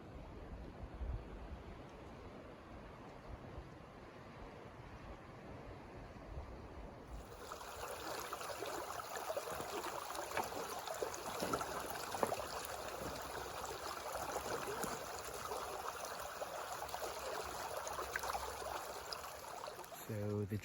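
A small creek at the end of a hiking trail flows with a steady, rushing babble that grows fuller and louder partway through, continuing without a break.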